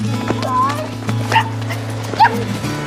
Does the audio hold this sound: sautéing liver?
no